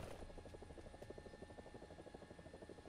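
A video-game helicopter thrums with a fast, steady rotor chop, loud and close, its rhythmic blade beats pulsing evenly throughout.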